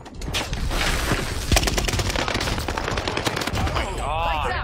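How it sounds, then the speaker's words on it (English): Gunfire and an explosion in the Warzone battle royale game, loud rapid automatic bursts and booming impacts packed close together, followed by a fading ringing tail. "Grenade out."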